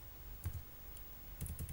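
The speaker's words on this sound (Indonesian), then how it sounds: "Kita tinggal mengetik query di sini" Someone types a query on a computer keyboard during a network forensics tutorial, making two short bursts of crisp, close keystroke clicks against a quiet background hiss.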